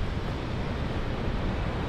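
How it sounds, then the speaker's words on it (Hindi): Water rushes over rocks at the Koka picnic spot in Karbi Anglong, a steady, even wash of noise with no pauses or voices. "देखिए इस साइड से कैसे पानी बह के आ रहे"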